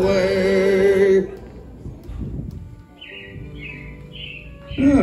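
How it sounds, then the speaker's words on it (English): Robins sing as a show effect at Disney's Carousel of Progress in Magic Kingdom, Orlando, with chirps and short rising calls entering after loud music cuts off, under a hushed room tone before the music swells again. "it looks like the Robins are getting ready to celebrate Valentine's Day today"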